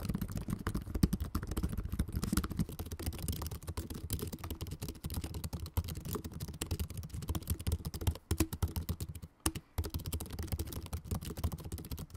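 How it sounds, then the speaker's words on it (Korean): Quiet, rapid clicking of Samsung Galaxy Book Pro 360 laptop keys pattering steadily up close, with brief pauses between bursts of typing. "타이핑을 해보면 좀 쫀득한 느낌이 많이 들더라고요"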